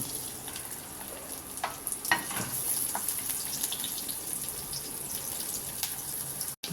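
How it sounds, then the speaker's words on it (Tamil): Onions dropped into hot oil in a kadai pan sizzle steadily and close up, with a few brief crackles and stirring scrapes over a continuous hissing fry. "எண்ணெய் காஞ்சிடுச்சுங்க, வெங்காயத்தை போட்டுக்கலாம்."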